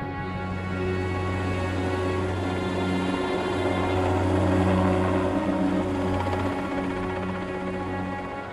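A helicopter flies overhead with a steady, loud rotor and engine drone that holds throughout, swelling slightly in the middle, with no talk.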